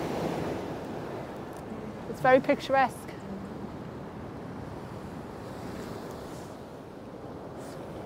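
Steady roar of surf and wind with waves crashing against a hollow pier, a brief spoken remark midway.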